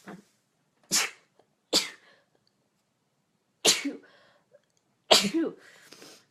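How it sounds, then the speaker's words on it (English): Several sharp sneezes and breathy bursts come one at a time, close and isolated, with quiet pauses between them. "Oh, I'm gonna sneeze."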